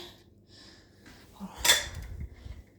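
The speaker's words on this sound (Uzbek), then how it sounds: "Mana yerda mana bunaqa yuvilmagan idishlar bor. Shularni uni davomida yuvaman." Unwashed dishes being handled and washed in a home kitchen, with a few soft clinks of plates and cutlery and one louder clatter midway, fairly close and with no talk.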